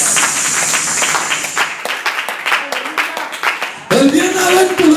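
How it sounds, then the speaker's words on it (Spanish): A church congregation offers rhythmic clapping as praise, a crowd clapping steadily for several seconds before a voice and music take over near the end. "¿Le podemos regalar a Jesús una ofrenda de palmas?"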